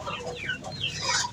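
Free-range village chickens cluck steadily at feeding time, a close, busy chorus of overlapping clucks and soft calls with no talking.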